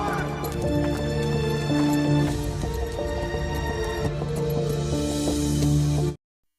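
Horse hooves gallop and clip-clop through mud in a period drama scene with a king caught in the mire. The hoofbeats are mixed under dramatic music and sustained tones with steady loudness, and then they cut off sharply.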